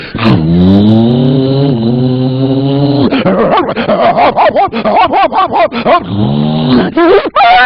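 A stage comedian vocally imitates a dog barking and chasing a car: a long, loud growling whine, then a rapid burst of yapping barks and yips, ending in another drawn-out whine, all close and alone.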